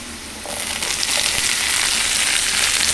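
Green chili pieces hit a hot pan already holding cumin seeds, bursting into a loud, steady sizzle that swells after the first half second and holds bright and close throughout.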